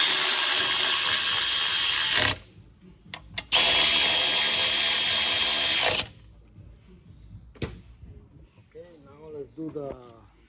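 A power tool tightens a bracket bolt under a VW car in two loud bursts of high whirring, with clanks and a brief knock between them and a voice speaking near the end.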